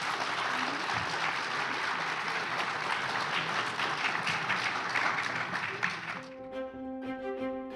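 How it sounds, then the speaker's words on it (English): An audience applauds panelists at the close of a panel discussion on climate impacts on winter sports, travel and dining, with steady dense clapping for about six seconds that gives way to a few notes of music. "Quick round of applause for our panelists."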